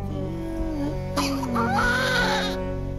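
A newborn baby cries in a short, strained wail that rises and wavers over a steady low background hum, with no talk over it.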